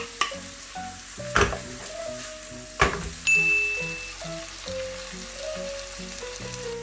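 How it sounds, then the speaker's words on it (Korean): Pork belly with onion and green onion sizzles steadily as it is stir-fried, with a few sharp knocks of a utensil against the pan and a brief tonal ring partway through. "충분히 그때 이제 양파 대파 넣어주시면 돼요"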